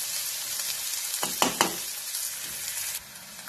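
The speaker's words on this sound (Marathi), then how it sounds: "आता कांदा चांगला भाजायचा, जास्त लालसर सुद्धा करायचा नाहीये" Onion frying in a pan for a pavta (field bean) usal, a steady close sizzle broken by a few louder scraping stirs near the middle, with no talking.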